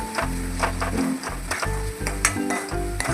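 Masala spices fry in oil for a dhaba-style chicken curry, a dense crackling sizzle broken by repeated rhythmic scrapes and knocks of a spoon against the pan, loud and close.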